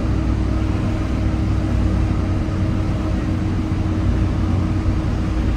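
Engine of a 2023 Ram TRX pickup truck while it drives a lap, a steady, loud low rumble with road and cabin noise that holds constant throughout, no voices.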